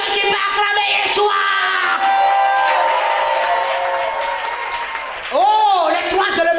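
A worshipping congregation applauds and cheers for Yeshua. Steady clapping and whoops from the crowd run the whole time, while a loud amplified voice sings or calls out over them.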